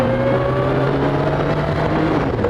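A Kawasaki ZX-12R motorcycle engine held at about 4,500 RPM in second gear, giving a loud, steady, close-up drone that barely changes pitch.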